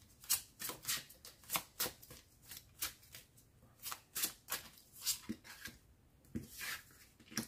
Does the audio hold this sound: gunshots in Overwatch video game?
no